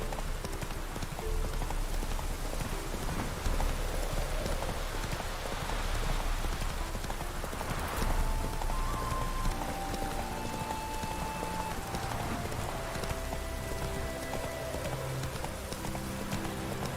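Horse hooves clip-clop steadily in a video game, a continuous rhythmic trotting that sits close and fairly loud over a rainy background wash, with no talking.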